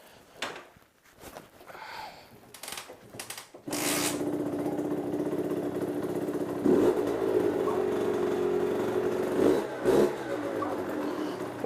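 A cold MRT motorcycle engine cranking with clicks and several stuttering attempts, then catching and settling into a steady, rough idle with occasional throttle blips, close by.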